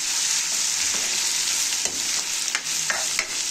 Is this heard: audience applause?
no